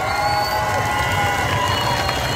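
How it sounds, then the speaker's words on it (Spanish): A crowd at a bull-riding event cheers and applauds in a continuous roar of claps and shouts, with whistles and horn-like tones rising above the din, loud and unbroken throughout. "regálele fuerte el aplauso"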